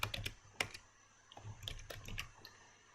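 Close, fairly quiet keystrokes on a computer keyboard while entering a spreadsheet formula, scattered clicks in small irregular groups over a low background hum.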